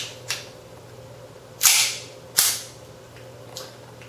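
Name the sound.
KWA MKII 1911 gas airsoft pistol firing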